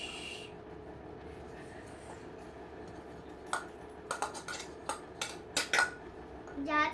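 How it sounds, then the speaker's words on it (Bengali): Toy kitchen dishes clink and clatter as they are handled and put away, with several sharp, close knocks near the end after a quiet stretch. "এবার রেখে দিচ্ছি বাসন"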